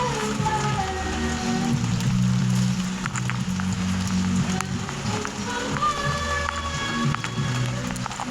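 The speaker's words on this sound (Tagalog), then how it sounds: "kasi malakas ang ulan dito" Heavy rain pours down continuously and hisses across the whole stretch, while tonal singing or music carries faintly underneath. It stays loud and even throughout.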